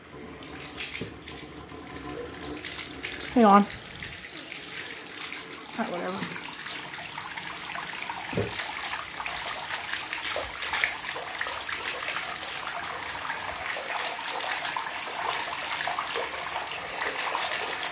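Steady rush of water from a tap filling a bathtub, constant and fairly close, with someone briefly speaking early on.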